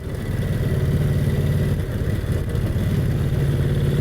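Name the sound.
vintage motorcycle engine running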